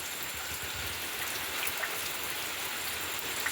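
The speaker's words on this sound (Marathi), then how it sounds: "पाऊस बघा कसलो भन्नाट चालू होतो" Steady monsoon rain in the Konkan pours down in a dense, continuous hiss of drops with no voices, close and even throughout.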